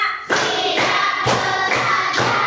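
A classroom of students claps in unison, several sharp group claps in a steady rhythm, loud and close, with no talking.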